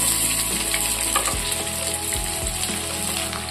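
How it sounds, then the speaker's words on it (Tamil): Steady oil sizzle of small onions and garlic frying in a pan, a continuous hiss with a few soft stirring knocks partway through. "நம்ம சேர்த்துக்கிட்ட வெங்காயமும் பூண்டும் நல்லா கலர் மாதிரி வரணும் அது வரைக்கும் வதக்கிக்கணும்"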